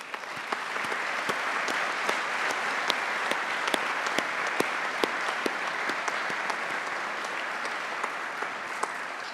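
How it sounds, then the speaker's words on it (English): At a Swinburne University graduation ceremony, graduates applaud the staff with a steady, moderately distant wash of clapping that fills the hall, with occasional sharp individual claps standing out. "Graduates, please join me in a round of applause to the staff."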